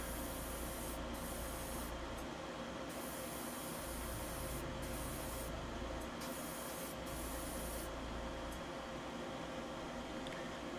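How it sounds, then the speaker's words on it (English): Spray paint hisses steadily over a model robot kit, a Master Grade Guntank, in a faint, continuous spray with slight shifts in texture throughout. "Giving this a good coating before we let it dry."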